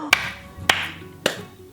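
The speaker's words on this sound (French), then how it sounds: "Oh bah chapeau, là j'applaudis." Three sharp, slow hand claps sound close by at even intervals of just over half a second, each ringing briefly over a faint low background.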